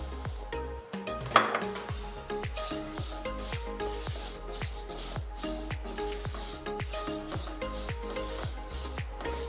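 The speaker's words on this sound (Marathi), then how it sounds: "सर्वात प्रथम आपण तीळ जी आहे ती थोडीशी भाजून घेऊया।" Sesame seeds dry-roasting in a pan with rapid, rhythmic scraping and clinking of a spatula against metal, a quick repeated stirring pattern with one louder clatter near the start, close and fairly loud.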